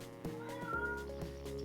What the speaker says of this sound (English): Is that his cat? Did he name it or something? Meow! Meow!